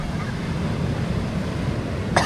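Strong ocean waves rolling in at Calabasa, Gabaldon, a loud steady roar of surf and wind filling the air throughout, with no talking.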